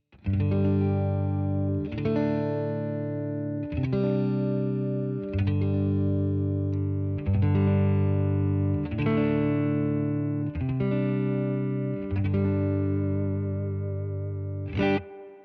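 Distorted electric guitar chords on the bridge humbucker ring out loud and sustained, struck roughly every two seconds through a Fender Tone Master Deluxe Reverb amp with a warm, gritty tone and no voices.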